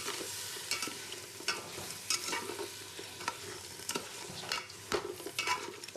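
Tomato frying in a little oil in a pan, a soft steady sizzle broken by repeated clinks and scrapes of stirring, close and quiet with no voices.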